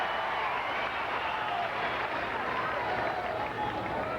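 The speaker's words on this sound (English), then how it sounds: "now listen to this crowd. They love him." Tennis crowd at the 1995 Cincinnati final between Agassi and Chang applauding and cheering, a steady dense wash of clapping and voices that holds at an even level throughout.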